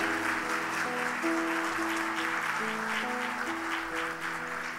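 Wedding guests at a church ceremony applaud steadily while organ-like music plays along, the clapping soft and continuous throughout.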